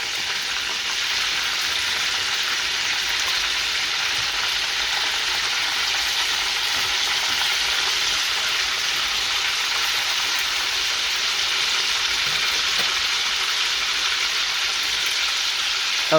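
Meatballs fry in a pan with a loud, steady sizzle that holds an even, close hiss throughout, with no talking.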